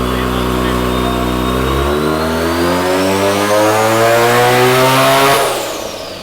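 A 1200-horsepower wagon engine revs hard and loud close by, its pitch climbing steadily over several seconds before dropping off sharply at the end.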